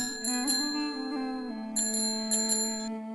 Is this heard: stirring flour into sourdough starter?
no